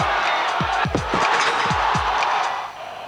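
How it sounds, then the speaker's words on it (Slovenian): Football fans cheer for Slovenia at the Slovenia vs Italy match in Trieste, a broad stadium roar of voices with a series of rhythmic thumping drum beats pounding through it before the noise drops off at the end. "sporno navijanje naših navijačev naše reprezentance"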